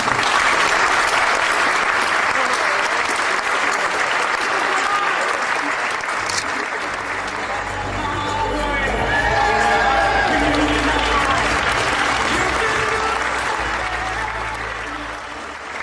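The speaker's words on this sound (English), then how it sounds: "Can we just have a special round of applause for Adrian" Sustained loud applause from a large crowd at an awards ceremony, clapping steadily throughout with some cheering mixed in, fading slightly toward the end.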